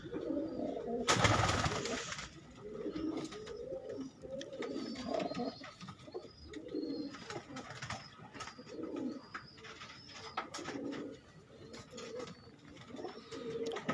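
Breeder pigeons coo repeatedly in a loft, soft rhythmic calls overlapping throughout with wing flutters and a brief loud rustle early on.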